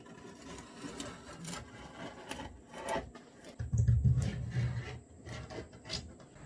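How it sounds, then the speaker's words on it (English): A homemade tool, a wood stick with a stapled razor blade, scrapes and cuts through an old glued windshield seal on a 1984 Volkswagen Rabbit GTI, giving close rasping, scratchy strokes that grow louder and denser midway. "It's just a piece of wood with a razor blade stapled to the end of it, and it seems to be working pretty well."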